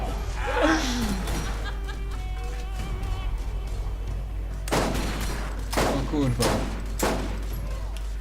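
Rapid bursts of gunfire in the video game Borderlands crackle through at the end, a few quick volleys heard under people talking and laughing over an ongoing game soundtrack.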